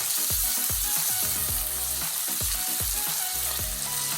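Steak frying in a pan with butter, rosemary and garlic gives a steady close sizzle, with repeated rhythmic scraping or spooning strokes over it and no talk.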